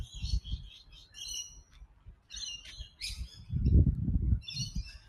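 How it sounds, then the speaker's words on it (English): Rainbow lorikeets call in the gum trees of a succulent garden at a botanic garden, giving bursts of shrill, harsh chirps and screeches that repeat through the clip. A low rumble of background noise runs underneath. "the birds that I'm hearing at the moment, I think, are the rainbow lorikeets"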